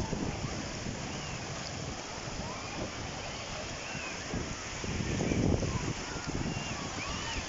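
Sea waves at Margate beach on the British coast, heard as a faint, continuous wash of surf mixed with wind buffeting the microphone, swelling briefly louder partway through.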